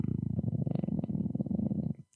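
A cat purrs while being petted, a close, steady low rumble pulsing rapidly for about two seconds before cutting off.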